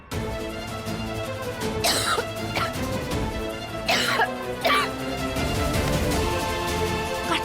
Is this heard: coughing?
yes